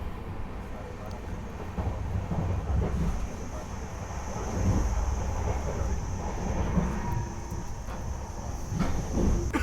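Interior of a moving private passenger train, a steady low rumble and rushing wind-like noise that swells and fades slightly, with faint murmured voices in the background.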